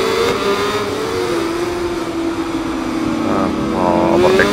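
Racing superbikes, including BMW machines, scream past at Misano World Circuit Marco Simoncelli during a World Superbike race, a loud continuous high-revving engine wail that shifts in pitch as bikes pass, with another rising howl near the end.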